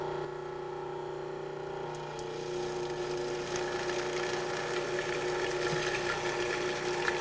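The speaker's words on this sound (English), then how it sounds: "add the oil, vinegar, and other dressing ingredients through this feed tube opening while the machine is running" A 1995 food processor whirs steadily while mixing oil, vinegar and other salad dressing ingredients, a constant motor hum with a faint sloshing layer that grows slightly louder partway through, with no voices.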